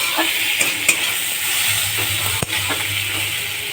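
Tamarind and chopped tomato fry in a covered pan with a steady close sizzle, a few light stirring scrapes and one sharp utensil knock standing out against the hiss.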